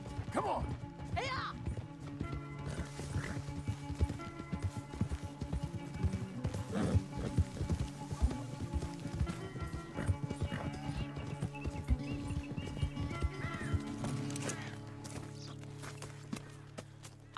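Horses gallop in a race in Red Dead Redemption 2, with fast rhythmic hoofbeats, occasional neighs and jostling, and voices over the steady pounding.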